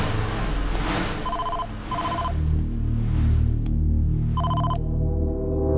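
A telephone rings in three short electronic bursts over a steady low background hum.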